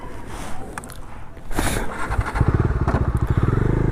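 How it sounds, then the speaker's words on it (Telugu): A Bajaj Dominar BS6 touring motorcycle starts after a short crank, then settles into a loud, close idle with an even, rapid pulsing thump, no one talking. "So let's start the bike."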